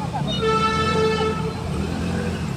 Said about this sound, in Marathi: पुन्हा ट्रॅफिक फुल लोणावळा आता झालेला आहे